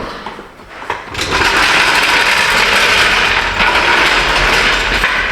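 A floor jack is rolled out from under a 2012 Buick LaCrosse Hybrid during a belt repair. After a brief quiet start, a loud, continuous rattling, clattering roll of metal wheels and mechanism carries on steadily to the end, with no talking.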